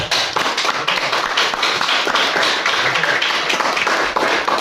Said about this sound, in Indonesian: kita berikan dulu aplaus sama teman kita